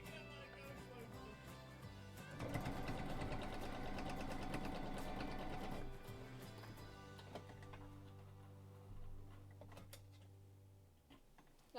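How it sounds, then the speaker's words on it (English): Home sewing machine stitching a quilt, a steady rapid mechanical whir with ticking needle strokes that surges louder for a few seconds in the middle, then slows and fades near the end. "I'm just gonna quickly sew this part."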